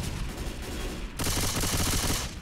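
Rapid gunfire in the zombie shooter Left 4 Dead 2, a dense burst that gets louder and brighter halfway through, loud and continuous with no talk over it.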